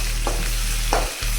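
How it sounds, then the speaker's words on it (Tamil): Onion and a dried red chilli sauté in hot oil with mustard seeds for beetroot rice, giving a steady close sizzle with a couple of soft scraping stirs. "வெங்காயம், அந்த காஞ்சி மிளகா ஒன்று வச்சுருந்தோம் இல்லையா, அதையும் போட்டு நல்லா வதக்கி விட்டுக்கலாம்."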